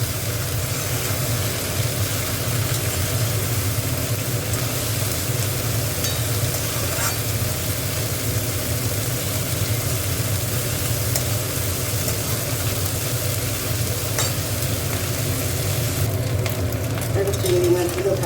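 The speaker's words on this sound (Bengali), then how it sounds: "চিংড়ি মাছটা একটু ভালো করে ভেজে নেব।" Shrimp fry in a pan, a soft, continuous sizzle over a steady low hum that keeps going with little change from start to finish.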